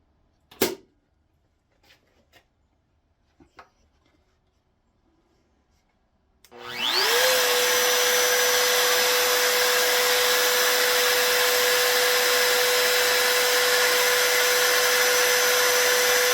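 A flute being cut into a wooden screwdriver handle on a wood lathe, a few quiet knocks and taps, then a loud tool whine starts and spins up to a steady high hum with broad rushing noise that runs on to the end.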